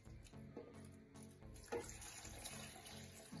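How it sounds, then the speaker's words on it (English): Purified water poured from a container over roughly chopped otaheite apples in a blender jar, a steady close splashing trickle that runs unbroken for several seconds, with no voices. "I'm gonna add some purified water"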